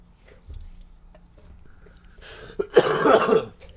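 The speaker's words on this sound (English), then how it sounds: "That was the quietest cough ever" A single close, muffled cough bursts out after a stretch of near-silence, with a faint thump earlier.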